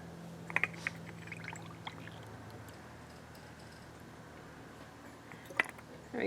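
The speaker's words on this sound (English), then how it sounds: "Now I'm going to pour some water in." Water pours into a glitter bottle for about two seconds as a soft, close trickle, followed by a quiet background with a few light taps and clicks.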